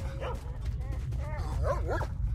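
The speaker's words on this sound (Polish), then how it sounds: "Pieski sobie radośnie biegają." Dogs in the video game S.T.A.L.K.E.R. Shadow of Chernobyl give short yips and whining barks over a steady low rumble of game ambience.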